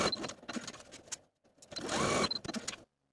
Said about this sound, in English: We're going to take these pieces to our machine and stay stitch from notch to notch with about a 1/2 inch seam allowance.